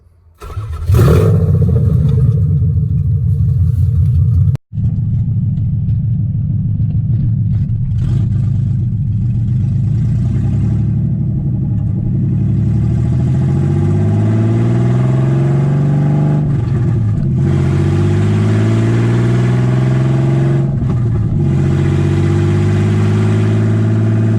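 An old 1989 Nissan 300ZX engine catches and settles into a steady, rumbling warm-up idle close by, holding a low drone with slight shifts in pitch.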